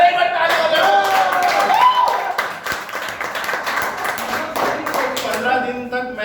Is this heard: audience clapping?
yes